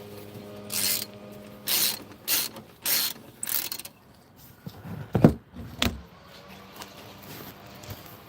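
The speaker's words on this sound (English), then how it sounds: "Here we are doing it by wrench." A ratchet wrench is worked by hand in several quick bursts of sharp, rapid clicking, separated by short pauses, close and fairly loud with no talking.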